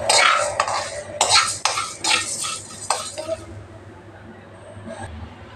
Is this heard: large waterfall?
no